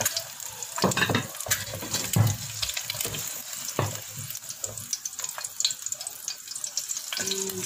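An egg fries in a pan for Indonesian mie goreng, a steady sizzle with scraping stirs and running water alongside, fairly close.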